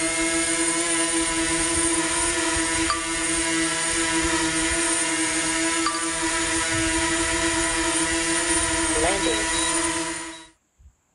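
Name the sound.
DJI drone launching, propellers spinning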